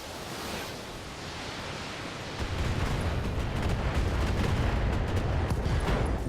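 Mech weapons firing together in BattleTech, a loud dense roar of overlapping blasts and rumble that swells suddenly partway through and holds steady to the end.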